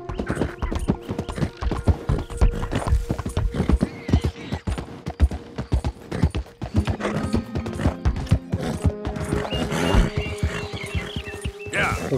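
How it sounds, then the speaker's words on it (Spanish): Hooves of a galloping horse in the video game Red Dead Redemption 2, a steady close rhythmic clip-clop that runs throughout, with a whinny and some in-game ambience and talk mixed in. "Lo que quiero es que el caballo corra un poco más."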